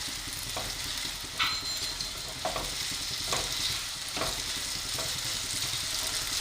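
Sago pearls roasting in ghee over a high flame, with a steady sizzle punctuated by repeated scrapes and clicks of a spatula stirring in the pan.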